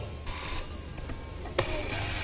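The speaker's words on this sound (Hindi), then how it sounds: "जनाब अली बजर्स बजाकर चेक कर लीजिए तीनों" Contestant buzzers on a studio game show are pressed one after another, giving sustained electronic tones that switch on and off against steady studio room noise, with no talking.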